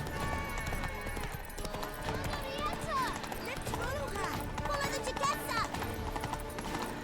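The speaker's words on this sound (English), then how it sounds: "Almost ran over that person with a horse." Horse hooves clip-clop through a busy town in The Witcher 3: Blood and Wine, a steady trotting rhythm set in a dense mix of game music, crowd chatter and ambient noise.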